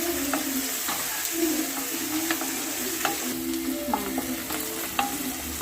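Crushed garlic and curry leaves sautéing in an oil-filled pan, a constant loud sizzle with scattered scraping stirs of a spoon throughout.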